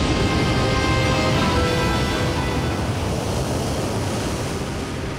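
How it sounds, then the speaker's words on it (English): Ocean waves surge across the Atlantic in a continuous, loud roar of broadband surf and wind noise with no distinct breaks, filling the whole stretch. "Waves cross the Atlantic at over 500 kilometers an hour, heading for Africa and Europe."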